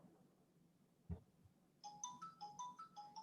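A phone ringtone plays in a quiet room as a short repeating electronic melody of bright rising notes, fairly faint, after a single soft knock.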